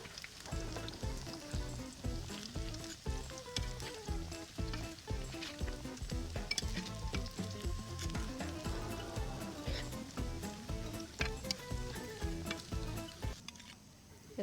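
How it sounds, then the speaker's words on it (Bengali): Mustard leaf pakoras fry in oil in a wok, a steady crackling sizzle that runs throughout under a rhythmic, tonal background. "কড়াইতে তেল দিয়ে ভেজে নিতেছি।"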